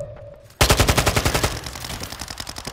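Rapid automatic gunfire with armour-piercing rounds in a first-person shooter match, a loud, steady burst of evenly spaced shots that starts abruptly and keeps going, close and alone with no talk.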